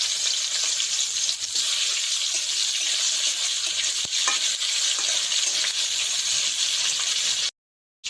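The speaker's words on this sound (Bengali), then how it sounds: "আর 2টা আলু দিয়েছি, এগুলো ভালো করে ভেজে নিচ্ছি আলাদা করে" Potatoes fry in a pan with cumin, bay leaf, cinnamon and tomatoes, a loud, close, continuous sizzle with faint stirring scrapes before it cuts out abruptly near the end.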